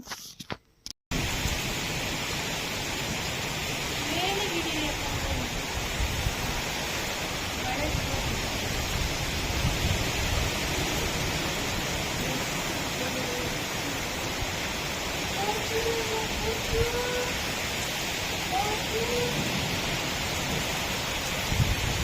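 Steady rain pours down in a continuous hiss, fairly close and even, with faint chirps and small sounds scattered through it.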